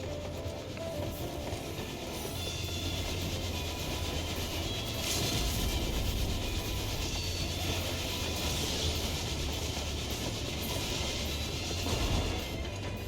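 A train boss battle in the video game Final Fantasy XIV rumbles with continuous rail noise, a heavy rolling clatter and low engine drone that runs steadily for over ten seconds with no speech.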